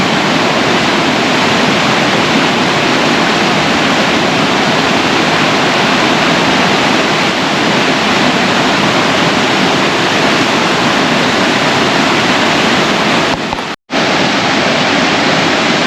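Waterfall on the Presque Isle River, a loud, continuous roar of rushing water close by, steady and unbroken apart from one very brief dropout near the end.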